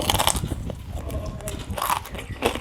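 Close, crisp bites and crunches of crunchy food, several sharp crackling bursts spread irregularly with chewing between them, loud and near.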